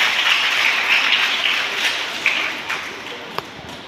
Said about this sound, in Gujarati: જોરદાર તાળીનો ગડગડાટ થઈ જાય